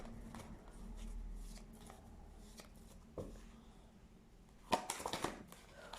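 Lenormand cards are shuffled for a love-guidance card reading, giving quiet, soft rustles and light taps that end in a brief, brisker flurry of card handling near the microphone, with no voices.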